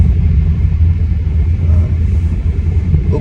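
Car rolling around a roundabout in Odessa, Florida, a steady low engine and road rumble heard from inside the cabin, loud and continuous with no speech.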